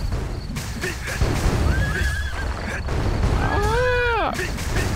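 A horse whinnies in the online role-playing game ArcheAge: Unchained, a rising then falling neigh near the end over a busy backdrop of combat effects and game noise.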